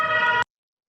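An ambulance siren sounds as a steady, loud tonal wail for about half a second, then cuts off abruptly into silence.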